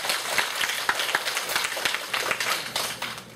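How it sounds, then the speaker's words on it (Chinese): A university sociology class applauds a student group after its presentation: steady, crowded clapping from many hands, sustained for a few seconds at moderate loudness, with no voices over it. "非常谢谢第五组的报告，请他鼓掌一下"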